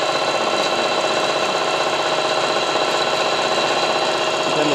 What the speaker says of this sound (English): This one has a commercial motor built in, so does the third one that sews a little faster